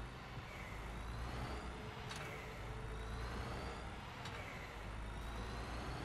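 A truck engine in the driving game On The Road drones steadily and faintly from inside the cab, with a constant low rumble and no clear revving peaks.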